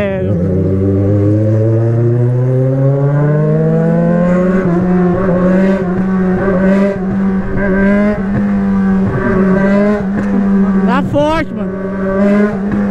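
A motorcycle fitted with an iridium spark plug and a new air filter revs hard up close. The engine climbs in pitch, then holds at a loud, steady high rev with small throttle wobbles.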